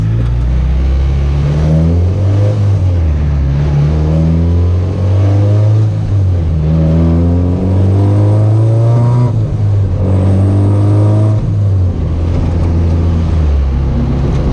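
A CT70 minibike with a 212cc engine revs hard on a ride, its loud, close exhaust note rising and falling through repeated throttle pulls and gear changes with no pauses.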